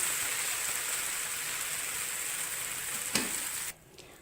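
Dosa batter sizzles loudly on a hot griddle as a steady, bright hiss with one sharp tap, then the sizzle drops off abruptly to near quiet at the end.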